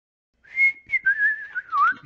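A person whistles a short, wavering melody with sustained notes and a final dip, close and clear, with no talking.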